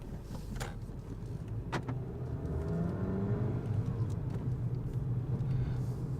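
A manual Volkswagen Golf 7 GTI engine idles and runs steadily with a low rumble, rising slightly in pitch, heard from close by with a few faint clicks.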